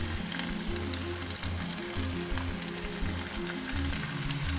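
Chicken stir fry sizzles and crackles steadily in a hot pan, a dense, continuous frying hiss close up with a low hum running underneath and no voices.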